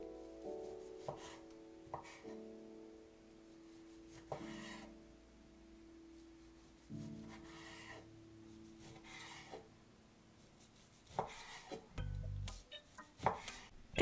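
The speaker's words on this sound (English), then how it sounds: "Cut it in 2 slices." A knife slices cooled, oven-roasted char siu pork on a board for banh mi, with a few scattered cutting strokes and dull board knocks against a quiet background, close up, with a faint hum at the start and no speech.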